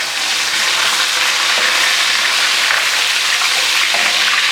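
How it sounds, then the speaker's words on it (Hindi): Garlic ginger paste frying with onions in a pan, a loud continuous hiss and sizzle with bright crackling, steady and close throughout. "अब मैं इसके अंदर लहसुन अदरक का पेस्ट डालूँगी"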